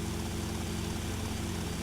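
A helicopter drones in flight in Grand Theft Auto Vice City, a steady, fairly quiet rotor and engine hum with a low, even pulse.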